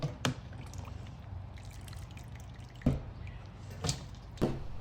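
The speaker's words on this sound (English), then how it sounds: "I want to go ahead and just strain that meat out and separate the liquid." Cooked pork meat for smoked boudin strained over a bowl, the liquid draining out in a soft low trickle and drip, punctuated by a few sharp clinks and splashes, fairly faint and close.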